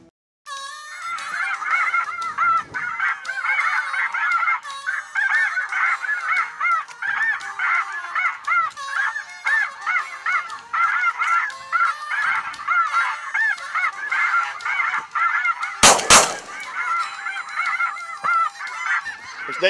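A large flock of geese honks continuously during a conservation goose hunt, dense overlapping calls near and loud, with a brief sharp burst near the end.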